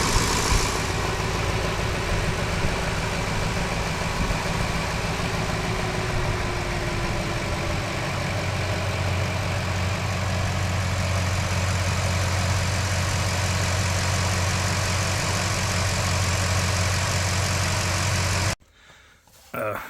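A Ford F-350 with the 6.2 engine idles steadily at close range, a continuous low hum with a constant tone that runs almost the whole time before cutting out near the end.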